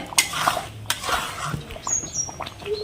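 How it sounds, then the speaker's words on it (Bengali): A spoon scrapes and clinks against a pan while thickening homemade grape jelly is stirred continuously, giving short, uneven taps and rubbing strokes at close range. "ঘন হয়ে এসেছে, অনবরত নাড়তে হবে।"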